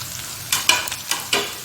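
Ginger garlic paste sizzles as it is stirred into frying mutton for karahi, with a steady low frying hiss broken by four or five brisk scraping bursts close by and no voices.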